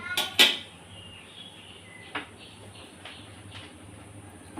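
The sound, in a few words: wok (kadai) being placed on the gas stove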